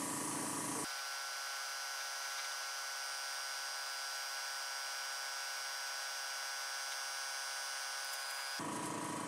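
A steady, close hiss of spray paint coating a model aircraft part starts abruptly and holds evenly for about eight seconds before cutting off, with no voices over it.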